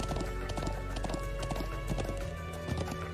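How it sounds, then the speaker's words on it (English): Horse hooves clip-clop in a steady, loud rhythm in the Trails of Cold Steel 2 video game as the horse wanders the highlands, with brief whinny-like tones and no talking over it. "Oh man, we gotta go catch this dumb horse."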